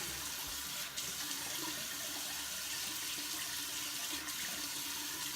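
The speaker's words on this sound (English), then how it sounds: "I'm gonna splash my face, get it nice and wet" Water runs steadily from a tap with a broad, even rush, while faint splashes come as a face is wetted before shaving with a pre-shave gel and lather.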